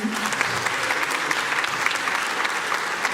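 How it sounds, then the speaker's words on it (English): Dense, steady applause from a concert audience at a tribute concert, a full crowd clapping continuously and loudly throughout with no break. "Could we have another round of applause for them?"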